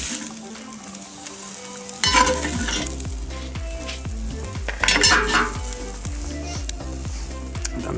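Second batch of beef sears in a Dutch oven for spicy goulash, a loud steady sizzle with rhythmic scraping and stirring clatter starting after a quiet moment, with no talking.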